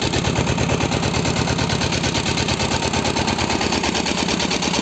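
Kentavr 160V walk-behind tractor engine labors loudly and steadily up close while plowing with a LEMKEN-style plow, wheels slipping, a rapid pulsing chug running throughout with no talk.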